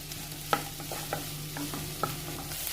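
Onions with salt sauté in a pan for a Malabar bird's nest snack, a soft steady sizzle broken by a few light spoon taps and scrapes, quiet and close.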